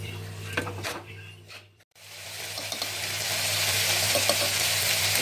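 Washed dal and rice being stirred in a hot pan for dal khichdi, a soft scraping sizzle that fades briefly then returns louder and steadier, with a low hum beneath.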